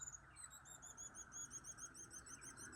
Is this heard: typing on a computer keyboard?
no